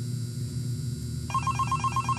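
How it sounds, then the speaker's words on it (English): A telephone rings in the video game Five Nights At Candy, starting after a quiet office hum with a bright, rapidly trilling bell that repeats steadily and fills the rest of the moment, with no voices. "Okay, so... oh, okay, here's the office. And there's a phone call."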